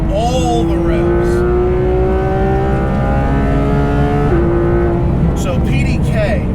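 A Porsche 991.2 GT3 RS engine howls at high revs in third gear on a canyon road, a loud sustained scream that climbs steadily, briefly dips at a shift, then climbs again, with the driver talking over it.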